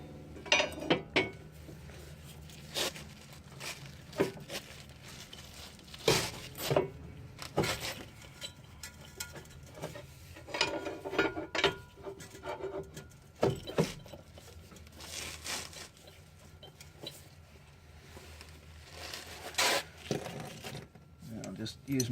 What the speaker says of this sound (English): I should be able to pry the lower control arm from the steering knuckle now